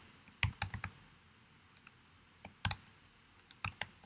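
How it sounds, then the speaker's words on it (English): Keys clicking on a computer keyboard in short irregular bursts of a few strokes, close and fairly quiet, with pauses between groups and no talking. "If I can type."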